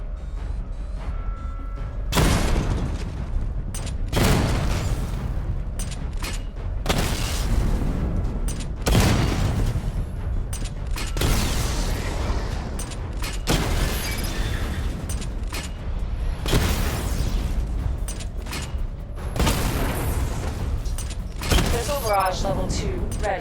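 A missile barrage fires in the Batman Arkham Knight video game as a series of heavy booming launches and explosions, about nine big bursts spaced a couple of seconds apart, with talk partly underneath.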